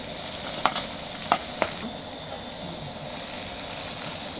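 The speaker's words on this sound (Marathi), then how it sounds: "कांदा भाजून झाला आहे तर त्यामध्ये टाकत आहे टोमॅटो." Tomatoes added to browned onion sizzle and fry in a pan for a dried-fish dish, a steady close sizzle broken by a few sharp stirring clinks and scrapes.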